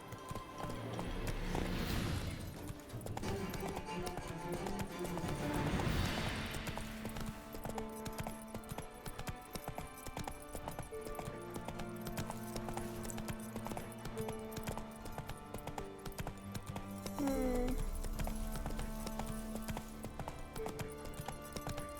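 A horse gallops in the video game The Witcher 3, its hooves a rhythmic, close clip-clop that keeps a steady pace over background game music.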